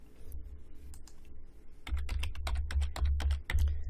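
Keys on a computer keyboard clack close to the microphone, starting with a few scattered presses and then a quick burst of rapid typing. The clicks are crisp and sit over a low hum.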